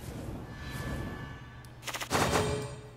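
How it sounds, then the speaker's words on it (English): Explosion effects from the Shadowverse card game crackle in quick bursts, with a short rapid volley followed by a louder blast that fades out, heard alone at low level. "Nope, just more explosions."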